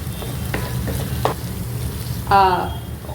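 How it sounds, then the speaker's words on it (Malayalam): Red mutton curry masala fries and sizzles in oil over medium flame, stirred with scraping strokes in a pan, close and steady with a louder sizzling burst near the end. "മീഡിയം ഫ്ലെയിമിൽ നന്നായിട്ട് ഇളക്കിയിട്ട് അതുവരെ കുക്ക് ചെയ്യുക"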